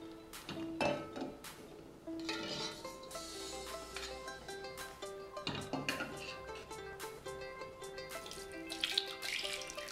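Tap water runs and splashes into a sink as parsley is rinsed, with an irregular gurgling flow and clinks of dishes, with background music playing underneath.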